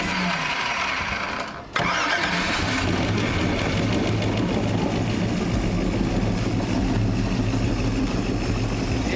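A boat engine turns over after a brief lull and settles into a loud, steady close-up idle, a continuous low rumble with no talk over it.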